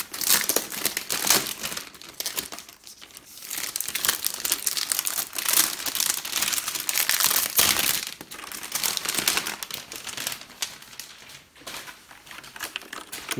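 Crinkly envelope-style packaging is unwrapped from around a mechanical keyboard, producing continuous close, loud rustling and crackling with brief pauses and no speech.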